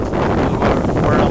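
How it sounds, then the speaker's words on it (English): Wind buffeting a microphone outdoors, loud low rumbling gusts that continue steadily through the short clip. "It's a little bit windy today."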